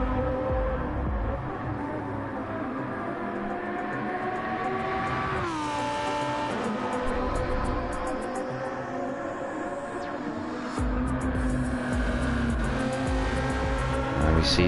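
A GT race car in a Hankook championship round roars loudly through corners, its engine note rising and falling with a sharp gear change partway through, over a continuous broad drone of tyre and track noise.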